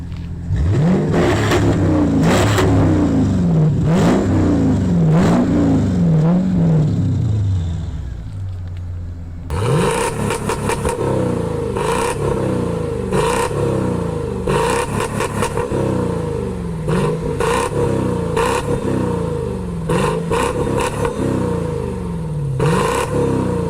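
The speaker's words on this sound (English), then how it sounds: "the wonderful 5-liter V8. If you change exhaust in this car," Mercedes CL500 with the M113 5-liter V8 and a changed exhaust revs hard in repeated bursts, loud and close, each rise and fall of the engine note clearly separated, with no talk over it.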